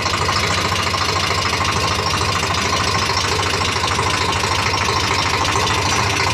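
A motorbike engine hooked up to a trolley idles and runs steadily and loudly with a knocking, vibrating low throb close by, continuous from start to finish with no talk.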